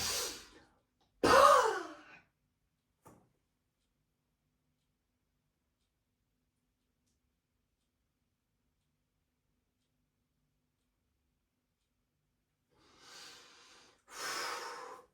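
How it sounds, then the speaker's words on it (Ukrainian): During a posture breathing exercise, a person gives a sharp, noisy exhale and inhale close to the mic, followed by long silence and then another pair of forceful breaths. "Видих. Вдих різкий."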